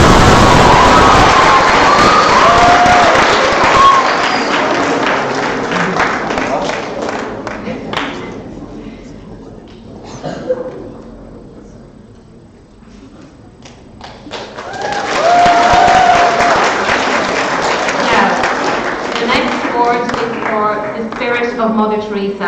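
Clapping from an audience at the Le Chéile Awards 2017 ceremony rises in two loud bursts with a quieter dip between them, and a presenter speaks over parts of it.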